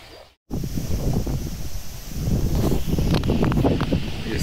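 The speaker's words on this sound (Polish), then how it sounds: "Jest chyba z 60 na godzinę wiatr porwisty." Strong gusty wind on a river during a solo rowing trip on the Vistula, roaring and buffeting hard against the microphone after a brief drop-out, with rustling and rising gusts.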